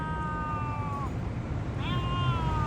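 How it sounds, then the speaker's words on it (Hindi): A cat trapped in a car's engine bay lets out two drawn-out meows about a second apart, clear over a steady engine-room rumble and ambient noise. "और बिल्ली की आवाज़ें आ रही हैं भाई।"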